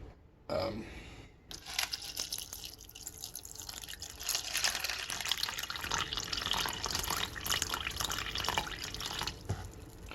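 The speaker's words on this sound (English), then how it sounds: "Now we just need to fill with water." Water pours steadily into a container for instant mac and cheese, a constant splashing rush that follows a brief gurgle at the start and keeps going to the end.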